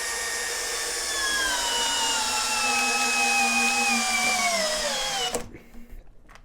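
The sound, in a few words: Ingco cordless impact drill running in forward, gear 1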